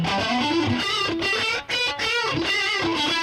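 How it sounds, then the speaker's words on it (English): An electric guitar played through a distortion pedal, crunchy sustained chords and riffs ringing loud and close, with a brief gap between phrases before the driven tone resumes. "if you want a little more distortion, hit a distortion pedal"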